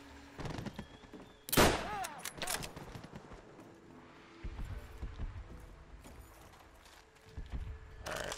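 Sniper rifle shots and gunfire in Call of Duty: World at War, with one sharp, loud blast standing out amid scattered battle noise and shorter reports.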